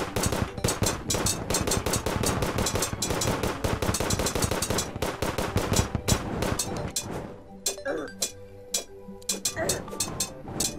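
Rapid, loud gunfire from the Phoenix Blaster in Terraria, an expert-mode home defense fight, crackles in a dense continuous stream, then breaks into scattered separate shots with background game sounds.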